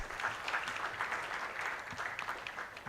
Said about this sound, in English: Each of you individually, please clap for yourselves